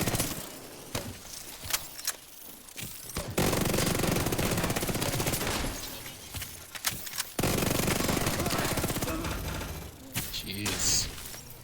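Gunfire in The Division 2 hardcore mode comes in long, loud, rapid automatic bursts, split by short pauses and scattered single shots and mechanical clicks, with a voice talking at times.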